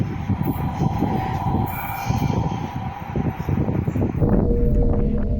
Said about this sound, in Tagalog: Maririnig sa video ang tunog ng tren na tila malapit lang kay Ricardo.